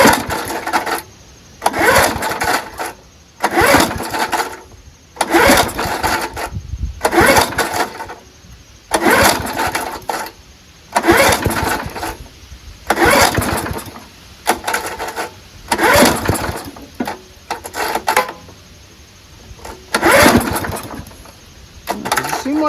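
A 1974 Ransomes Bob-Cat M21 push lawnmower with a Wisconsin Marine 4HP engine is cranked repeatedly; the loud engine sputters and catches in rough bursts roughly every second or two, separated by short pauses.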